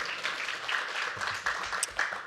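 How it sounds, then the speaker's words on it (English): An audience at a young professionals' debate on water security claps briefly, a steady patter of applause from a room of people, moderately loud and continuous through its short span. "I think she deserves a round of applause just for what she does"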